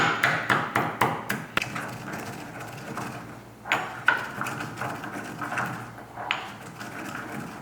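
Pepper and cumin seeds for rasam are pounded in a mortar: a quick run of sharp, evenly spaced thuds up close, then slower, scattered knocks and grinding.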